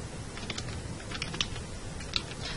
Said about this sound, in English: you would send a message by typing in the box